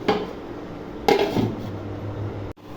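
A metal lid is set onto a cooking pot of nihari on the stove, giving two close clanks about a second apart followed by a faint rattle and low background hum.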